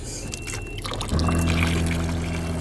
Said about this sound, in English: and I get hot water